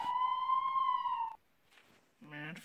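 A siren from an ambulance sounds a steady high tone for over a second, then cuts off, followed after a short gap by a harsher, buzzier burst, fairly faint and without talking.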